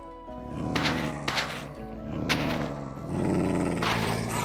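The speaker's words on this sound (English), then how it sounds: "Why are there so many spectral doggos?" Spectral dogs in Minecraft All the Mods 10 growl in several close, rumbling bursts, loud and overlapping, with game ambience beneath.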